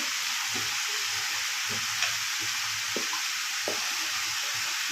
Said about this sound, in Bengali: এটা একটু ফ্রাই হয়ে গেছে